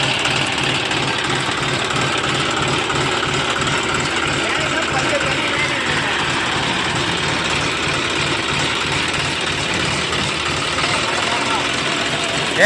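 A John Deere 5050 E tractor engine running nearby, a loud steady diesel rumble with rhythmic knocking throughout, while someone speaks over it.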